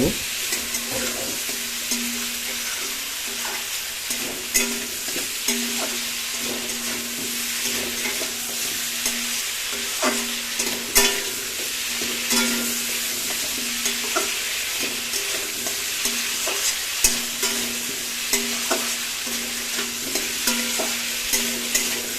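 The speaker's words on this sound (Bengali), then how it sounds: "চলুন তাহলে আমরা দু মিনিট ধরে একটা সুন্দর করে ভাজতে থাকি" Country chicken meat frying in a pan, a steady broadband sizzle running throughout with frequent sharp scrapes and clicks of stirring, close and fairly loud, no voices.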